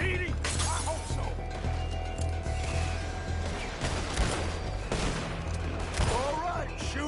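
Repeated gunshots crack through a Red Dead Redemption shootout around a moving trolley, irregular bursts of fire near and far over a steady low rumble, with voices shouting and talking throughout.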